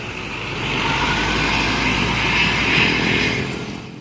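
Mercedes-Benz 1526-engined ANS Super Executive bus passing close by with a loud, steady diesel drone that swells in the middle and fades toward the end, no voices.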